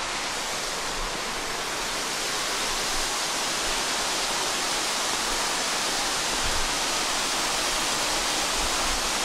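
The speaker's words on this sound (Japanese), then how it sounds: "ここからちょっともう滝の音で多分音声めっちゃうるさくて" A loud, steady roar of Tsuganeotoshi waterfall in Nagasaki, Japan, fills the whole clip, dense and unbroken like heavy rushing water close by, with no voices.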